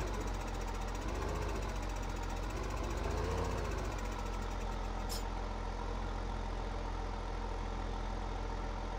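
A tractor engine runs steadily throughout, a dense rumbling drone with a rhythmic knocking pulse, loud and close, with a brief higher click midway and no talk.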